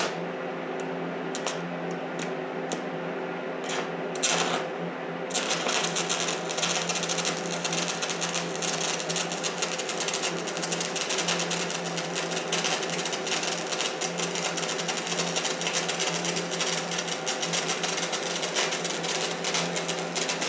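Everlast welder running at full power on 1/4 inch material, a dense steady crackling buzz after a brief hissing start, continuous and close throughout.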